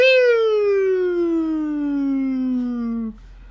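A voice imitates a police car siren with one long falling wail, loud and close, ending abruptly.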